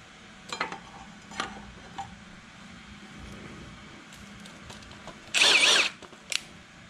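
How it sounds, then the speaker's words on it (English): A power tool bolts up a brake part on a ZX9R motorcycle, with a loud whirring burst of a few tenths of a second midway, preceded by scattered clanks and tool handling against a steady background hum. "I'm gonna put it on there and I'm gonna bolt it up."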